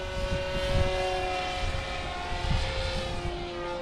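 Goblin 500 RC helicopter flying overhead, a steady whining rotor and motor drone with a sustained high tone, fairly loud and continuous with slight swells, no talk.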